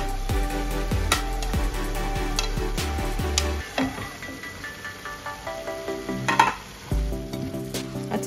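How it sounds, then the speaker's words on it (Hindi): Chopped capsicum fries with paneer in a pan, a steady sizzle broken by scraping and tapping of a spoon as the mix is stirred, with clacking strokes clustered early and more sporadic later. "इसमें अब हम डाल देंगे कटे हुए कैप्सिकम।"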